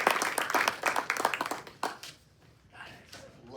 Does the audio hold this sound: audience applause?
yes